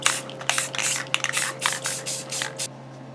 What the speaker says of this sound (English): Just to seal everything down, a little bit of matte clear sealer.